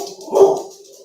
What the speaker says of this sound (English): I think you're just crazy barking at stuff.